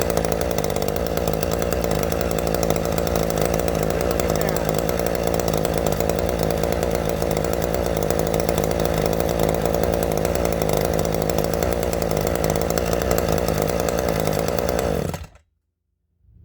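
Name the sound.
Ryobi weed whipper with modified muffler running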